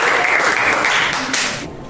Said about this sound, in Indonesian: Kasih aplaus dulu untuk Aura.